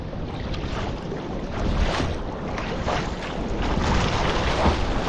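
Sea kayak paddling along the coast from Portballintrae to Portstewart, a constant rushing wash of wind and water with soft rhythmic paddle splashes close to the microphone.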